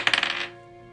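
A die clatters across a hard tabletop during a tabletop role-playing game, giving a quick burst of rapid bouncing clicks that settles within half a second into a short fading ring.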